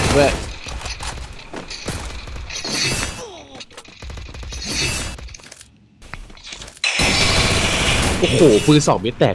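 Rapid bursts of gunfire mixed with shattering impacts in the mobile battle game Free Fire, loud and dense, with a voice talking over the action throughout.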